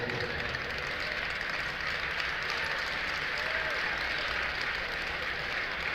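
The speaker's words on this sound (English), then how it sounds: "The crowd, giving Boyd the applause on the way off." A basketball crowd at a London Lightning versus Niagara River Lions game applauds a player heading off the court, producing a steady, dense wash of clapping and arena noise that holds evenly throughout, with voices blended into the crowd.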